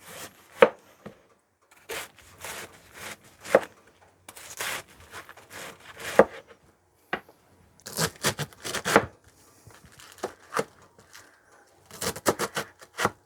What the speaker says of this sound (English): I'm just going to go ahead and cut this up in pretty fine chunks